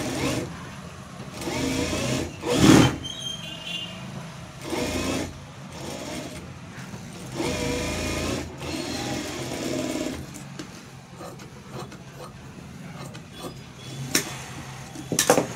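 Sewing machine stitching a blouse, running in several bursts of steady mechanical whirring with short stops between them, close and moderately loud, with someone talking over parts of it.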